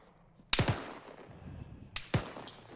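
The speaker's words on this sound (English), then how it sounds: "people are shooting at fucking civilians with guns" Two loud, close gunshots crack during a military field training exercise, the first followed by echoing reverberation and the second about a second and a half later, over faint outdoor background.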